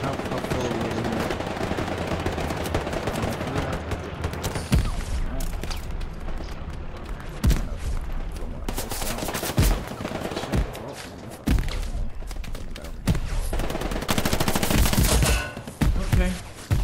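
Gunfire in the WWII shooter Hell Let Loose, including a Thompson: sharp single shots and short automatic bursts cracking at irregular intervals over a constant battlefield din, with a player talking throughout.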